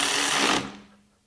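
A SKIL PWRCORE 12V brushless ratchet runs in a single loud, steady whir that lasts just over half a second, then cuts off and fades into quiet, with no one speaking.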